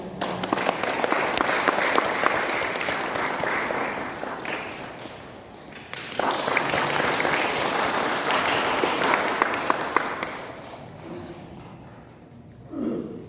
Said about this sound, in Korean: 뜨겁게 박수로 부탁드립니다